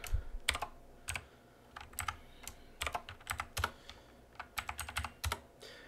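Rapid irregular typing on a computer keyboard while entering comments into a C program, with close, crisp key clicks in uneven bursts and short pauses and no talk.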